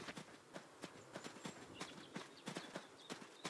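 Horse hooves clip-clop in the farm video game Adios, a steady walking rhythm of distinct, fairly faint hoofbeats alone with no talk.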